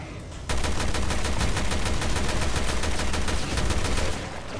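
Sustained rapid automatic gunfire in the Resident Evil Revelations 2 woods, a dense loud burst of evenly spaced shots lasting about four seconds before tapering off, with no talk.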